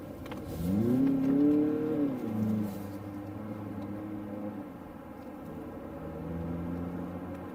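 A Mazda CX-50 engine rises in pitch as it accelerates quickly, then settles into a steady lower drone, with faint birds cooing in the background.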